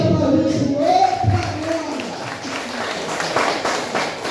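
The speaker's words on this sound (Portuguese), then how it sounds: "Você pode aplaudir o" A church congregation breaks into scattered applause and clapping, building into a busy patter over a few seconds, with a voice speaking over the start.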